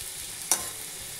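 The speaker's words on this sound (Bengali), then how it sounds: "তোমাদের কথা অনুযায়ী কোয়াশ ভাজায় তেল কম দিয়েছি" Squash fries in a pan with little oil, a steady soft hiss broken by one brief scrape or stir.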